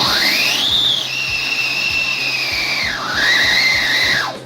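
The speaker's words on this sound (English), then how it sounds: "When you spark the fuse, it will produce showers along with a whistling sound." A Diwali whistling firework cracker gives a loud, shrill whistle that rises, holds, dips and rises again before cutting off, with a rapid crackling pulse beneath it.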